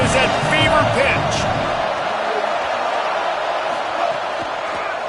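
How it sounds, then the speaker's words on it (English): A football stadium crowd roars loudly and steadily during a third-down play in the red zone. A commentator talks over the dense, sustained wall of noise. "this crowd is at fever pitch"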